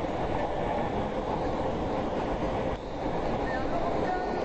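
A subway train runs through a capital city as the line heads underground, with a continuous rumbling roar and soft clickety-clack of wheels that holds steady apart from a brief dip midway, with no voices over it.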